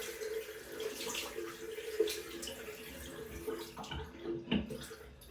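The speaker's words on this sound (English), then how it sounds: "I've just run that in some water" Water runs steadily from a tap over a Muhle shaving brush with a fibre knot, a soft, continuous splashing hiss heard faintly at close range, with a few small knocks near the end.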